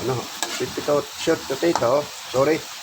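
Sweet potato frying with peanut butter, sugar and a little salt, a loud close sizzle with stirring scrapes, while a voice talks over it.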